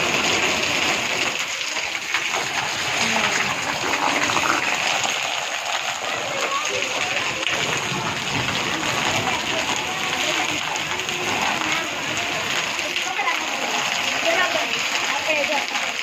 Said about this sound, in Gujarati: બહુ વરસાદ